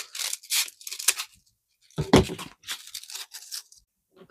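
Scissors snipping through crepe paper while making a giant daffodil: a run of quick crisp cuts and rustles, a short pause, then a louder crunching cut followed by more rapid snips, close and clear.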